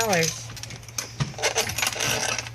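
Keys jangling and clinking as an apartment door is locked, a cluster of close metallic rattles over a steady low hum, with a brief bit of speech at the start.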